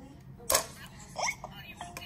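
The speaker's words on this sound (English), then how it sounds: "now he has hiccups" A cartoon child character hiccups with one sharp, sudden burst, then a couple of fainter catches, against quiet background sound.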